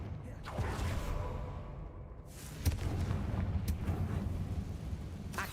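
The Confringo fire-blast spell goes off in a Hogwarts video game, producing several booming, crackling explosions in quick succession with rumbling debris and creaking between the blasts.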